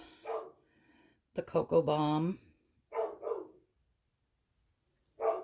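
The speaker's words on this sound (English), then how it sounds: "That's my dog outside, sorry about that." A dog outside gives a short burst of barks, muffled by distance, while a person talks nearby in a kitchen.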